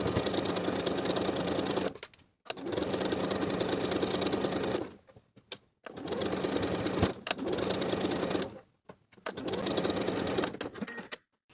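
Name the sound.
sewing machine edge stitching a hem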